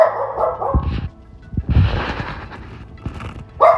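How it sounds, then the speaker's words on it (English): A dog barks several times in quick bursts, loud and fairly close, with short gaps between the barks and no talking. "That is my dog barking."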